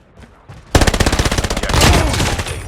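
Rapid automatic gunfire from a STEN submachine gun in the mobile shooter COD Mobile, a couple of faint shots followed by a loud, sustained burst of close, evenly spaced rounds.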